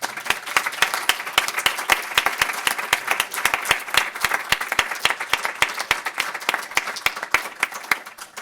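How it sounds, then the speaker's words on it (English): A conference audience at a DrupalCon event gives a sustained round of applause, dense hand clapping from many people continuing steadily throughout. "I would like you to please stand so we can give you a round of applause"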